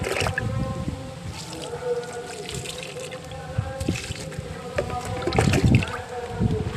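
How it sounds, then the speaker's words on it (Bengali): Water used for washing rice is poured onto household plants, a steady splashing trickle with louder gushes near the end, close by amid faint background noise. "তো জলটা দিয়ে দিই গাছে"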